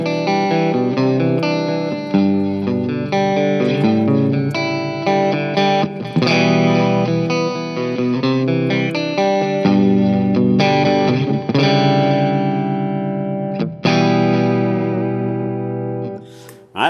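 A Harley Benton electric guitar played through distortion and effects on its middle pickup position rings out loud and sustained, with chords and notes ringing through reverb-soaked decays.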